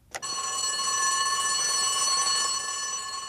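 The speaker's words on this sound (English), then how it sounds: "Quick burst of the assembly bell." A fire station assembly bell rings in one quick continuous electric burst after a sharp onset, a bright sustained metallic ringing that stays steady and fairly loud for about three seconds, with no voices.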